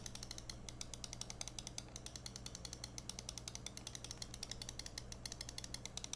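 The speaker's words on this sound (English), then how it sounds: "Clicks are nice. Side buttons." A Razer DeathAdder V3 Pro wireless mouse has its buttons clicked over and over, giving a quiet, close, evenly spaced patter of crisp clicks over a faint background hum.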